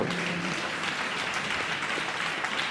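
A church congregation clapping their hands during a prayer service, a dense sustained burst of applause that carries evenly throughout, with no speech over it.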